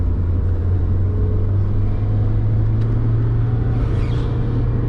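A Mazda Miata roughly nine years old drives along with a steady, loud engine and road rumble that continues evenly throughout, with no voices heard.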